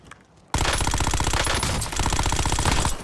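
Dense automatic gunfire in a video game bursts in abruptly after a brief quiet start, then continues as a loud, rapid, unbroken rattle of shots for the rest of the clip.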